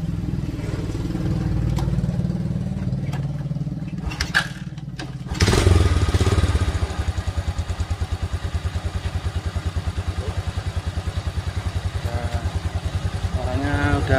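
A freshly rebuilt Yamaha Crypton/Vega motorcycle engine, just filled with oil, fires up after a few clunks and thuds, then settles into a steady, close, rhythmic idle that chugs evenly.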